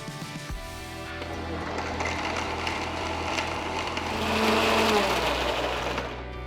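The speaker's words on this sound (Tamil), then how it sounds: "1 கப் காய்ச்சி ஆற வச்ச பால், இன்னொரு கப் குங்குமப்பூ பால், கொஞ்சம் ஐஸ் கியூப் சேர்த்து நல்லா பிளெண்ட் பண்ணி எடுத்துக்கலாம்." Blender whirring as it mixes boiled and cooled milk, saffron milk and ice cubes, a loud continuous motor drone with rattling that grows louder toward the end.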